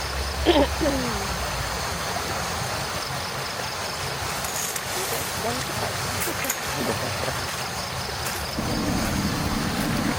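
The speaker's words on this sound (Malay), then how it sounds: "tengok sungai, tengok hutan, dengar bunyi apa nama jeram" Steady rushing water from river rapids at a forest campsite flows continuously, a broad wash of sound with no talking.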